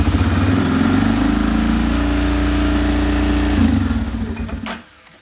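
A CFMoto engine in park idles loudly with a steady, throbbing mid-pitched rumble, then sputters and winds down to silence near the end.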